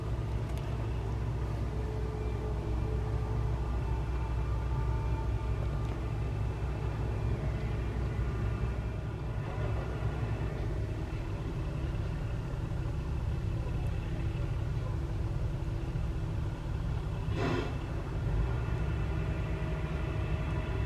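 Tow truck hauling a vehicle away from a campsite, a steady low engine rumble heard at moderate distance with one short sharp knock partway through, no talking.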